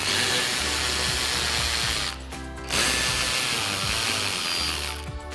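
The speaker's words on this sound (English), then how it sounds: "remove the 2 7mm screws on the inside of each. We've got our 7mm socket on our ratchet." A ratchet fitted with a 7mm socket removes the fender liner screws in the wheel well of a 2021-2023 Ford F-150. It makes a steady, close rapid clicking that breaks off briefly partway through.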